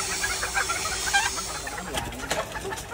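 Bantam chickens clucking at an ornamental chicken farm, a busy mix of soft, scattered clucks and bird calls against steady background noise, with a few sharper sounds near the end.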